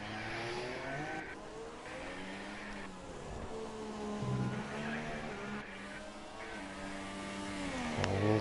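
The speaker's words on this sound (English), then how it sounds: "I just caught a little bit of oversteer there on the exit of turn 2." An F1 race car in a racing video game runs at steady high engine revs, with its tyres squealing and sliding in oversteer on a corner exit, loud and continuous throughout.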